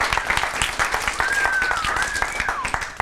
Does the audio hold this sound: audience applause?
yes